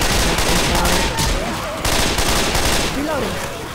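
Heavy gunfire blasts at zombies in Left 4 Dead 2, a loud, dense barrage of close shots filling the moment under shouting voices.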